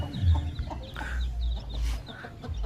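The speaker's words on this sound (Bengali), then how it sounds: "হ্যাঁ, এই যে মুরগি পেয়ে গেছি, এই যে মুরগি।" A hen clucks in short repeated bursts at close range, with low rustling and handling noise underneath; no talk.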